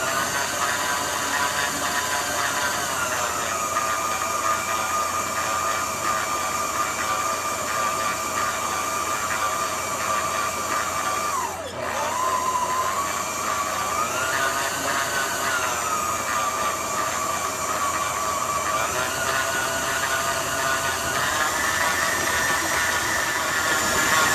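A stand mixer kneads garlic bread dough in a bowl, a steady, loud mechanical whir with a rhythmic ratcheting clatter running continuously throughout.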